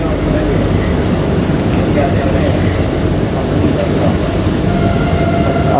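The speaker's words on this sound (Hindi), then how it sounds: "और ये हम पटियाला के कर्व पे चढ़ चुकी है हमारी वंदे भारत एक्सप्रेस।" A Vande Bharat Express running on a curve near Patiala, heard from inside as a steady, loud rumbling drone of wheels and rail noise with no breaks.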